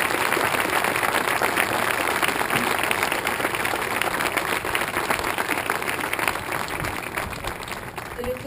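A crowd applauds service members at a Memorial Day pre-race gathering: dense, steady clapping that carries loudly throughout and begins to thin out near the end.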